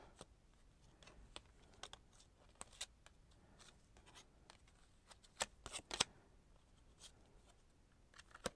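Tarot cards being handled and laid out during a reading, soft scattered flicks, slides and small taps close by, quiet and irregular with no talking.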